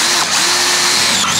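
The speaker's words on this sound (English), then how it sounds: "Now I can drill down on those two marks I've made." A power drill whines loudly and close, boring keyhole holes into a workshop door, its motor pitch shifting briefly as it bites into the wood.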